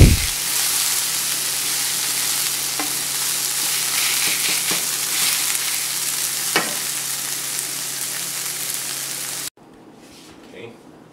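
Shaggy mane mushrooms frying with scrambled eggs and onion in a pan, a dense steady sizzle with occasional scraping stirs, cutting off abruptly near the end to near silence.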